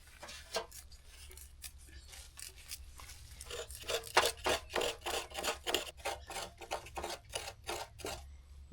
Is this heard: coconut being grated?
yes